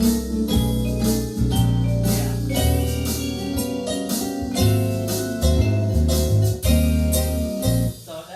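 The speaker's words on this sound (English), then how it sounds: "that's actually a jazz guitar, which also can be used as a Hawaiian steel guitar, which is a slide" A Hawaiian Shuffle rhythm on a Williams Symphony Grand II keyboard, using a jazz guitar voice that can also work as a Hawaiian slide steel guitar, with bouncy bass notes and chords moving in a steady, lilting shuffle.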